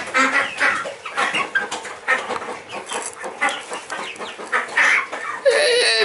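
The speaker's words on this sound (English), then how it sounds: "Hey, Mr. Rooster." Chickens cluck busily and continuously on a homestead, a rooster among them, close and lively with overlapping calls and occasional duck-like quacks.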